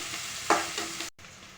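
Onions for a soya chunk kurma fry in a hot pan, giving a brief, faint sizzle with a short stirring scrape in the middle before a cut.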